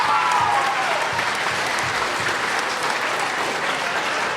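An audience at a school district Veterans Day ceremony in a theater claps for art teachers, a sustained, even round of applause from a sizable crowd filling the room, with a brief voice at the start.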